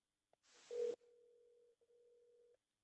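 Telephone call tone under headphones: a short burst of noise, then a steady mid-pitched tone holding about a second and a half with one brief break, faint and alone.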